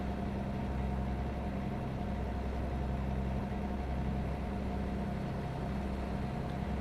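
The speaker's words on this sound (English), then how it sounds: "the engine in this truck has a weird sound to it right now." Volvo truck engine in American Truck Simulator, a steady low droning rumble with a faint tonal hum, constant and unchanging with no talk over it.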